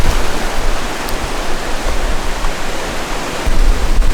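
Broad, steady wash of surf rolling onto Main Beach in Australia on a sunny coastal stroll, a constant near roar with a slight swell toward the end and no talk.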